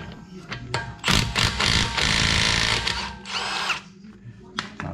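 A Milwaukee cordless power tool with a wheel lock key spins off a locking lug nut in loud whirring bursts with short ratcheting rattles between them, close to the microphone.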